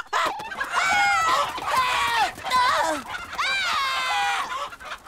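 Cartoon chickens on a barn farm from Teenage Mutant Ninja Turtles cluck and squawk loudly in a busy, continuous run of calls, with no talk over them.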